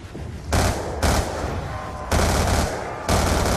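Automatic gunfire in Black Ops 2 Zombies on the Origins map: loud, sustained bursts of rapid shots with brief gaps between them, up close, with no talking.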